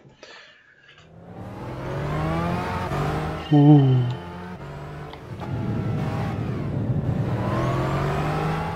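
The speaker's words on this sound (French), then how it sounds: "je vous laisse un peu respirer ce moteur de dingue" A race car engine in Gran Turismo 6 revs loud and close, climbing through gears with sharp pitch rises and a shift midway before pulling hard again; one brief exclamation from a voice.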